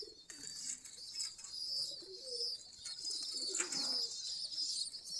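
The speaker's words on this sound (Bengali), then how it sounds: "আমাদের সম্পূর্ণ দেশি গিরিবাজ কবুতর। এই যে দেখেন" Native Giribaz pigeons cooing softly and faintly in a loft, with a few low coos and light chirps over a quiet background.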